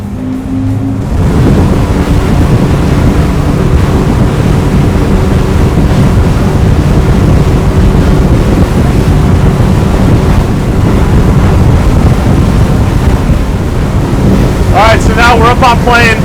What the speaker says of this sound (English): So now we're up on plane. We're cruising at about 27, 28 knots.